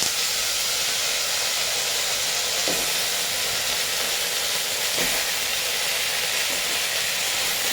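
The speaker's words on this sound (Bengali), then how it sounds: "তেলটা গরম হয়ে এসছে প্রায় এবার আমাদের কেটে রাখা আলুগুলো এক এক করে দেবো" Steady, dense sizzling of cut potatoes frying in hot oil, a constant bright hiss with a few faint clicks, no voices.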